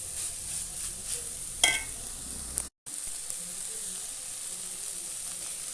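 Onions sautéing in a pan on the stove give off a steady, close sizzling hiss, broken by a brief silent dropout midway.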